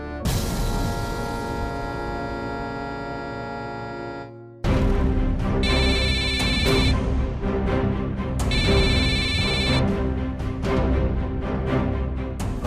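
A telephone ringtone plays in repeated bursts, fairly loud and continuous, with a brief break partway through before the ringing resumes.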